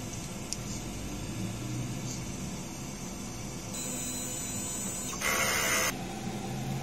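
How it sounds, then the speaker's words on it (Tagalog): A DTF printer running a head cleaning cycle whirs and hums steadily, with a shift in pitch partway and a brief louder burst of mechanical noise near the end. "Sa pag head clean ay pindutin na natin ang clean"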